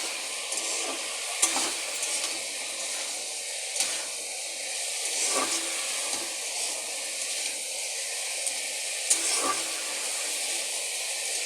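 Hilsa fish head being stir-fried with Malabar spinach in a pan, a quiet continuous sizzle with occasional spatula taps and scrapes, no talking.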